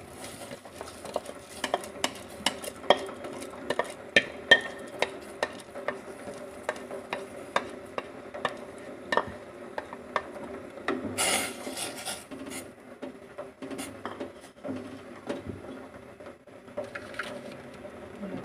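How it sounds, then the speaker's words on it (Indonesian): Black glutinous rice is stirred into thin coconut milk boiling in a pot, making a steady scraping and rubbing from the spoon with frequent small knocks and a soft bubbling beneath, close and continuous. "Santan encer saya sudah mendidih. Sekarang akan saya masukkan ketan hitamnya."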